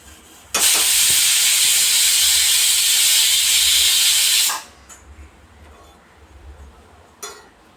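A pressure cooker holding beef curry vents its steam in a loud, steady hiss that lasts about four seconds, then stops abruptly. Faint clinks and a short burst of hissing come afterward, heard close.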